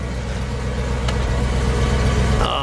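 A red 1968 Ford Thunderbird Landau with a 429 V8 idles steadily, a smooth low rumble holding close and even throughout, with a brief click partway through.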